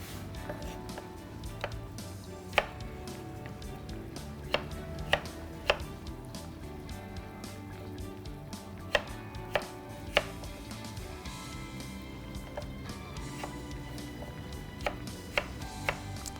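A knife chops boiled potatoes into dice on a board, giving sharp, irregular taps spaced a second or more apart over a steady low room hum, fairly close and moderately loud.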